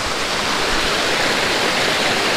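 Waterfall pouring steadily, a loud, dense, unbroken rush of water close by with no other sounds.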